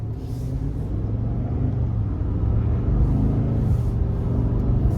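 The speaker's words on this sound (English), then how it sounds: "Now the Endurance V8 is pretty peppy even in this, which I like." A Nissan Titan XD Pro-4X pickup with a 5.6 Endurance V8 rumbles along while driving, a steady deep low drone heard from inside the cab, loud and continuous without voices.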